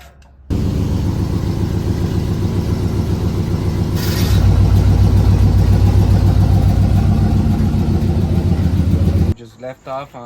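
Car engine with exhaust cutout installed and mufflers removed, a loud, rough low rumble running steadily close by, growing heavier and louder midway before cutting off near the end.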